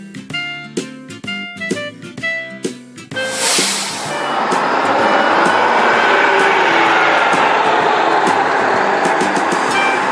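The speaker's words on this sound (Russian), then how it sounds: "Вот промчался в поле чистом поезд скорый, поезд быстрый. Под веселый стук колес" A fast passenger train rushes past through open fields, first with a run of sharp, rhythmic wheel clatters, then swelling into a loud, sustained roaring whoosh that fills the rest of the pass.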